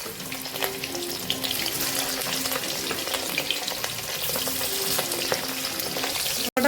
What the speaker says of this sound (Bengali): আর যে কটা আছে এবার আবার ভেজে